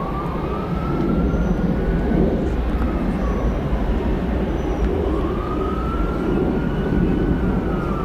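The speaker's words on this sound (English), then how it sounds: "I hear sirens." An ambulance siren wails in repeated rising and falling sweeps at Atlanta's Hartsfield-Jackson airport, moderately distant, over a steady loud roar of jet engines and airfield noise.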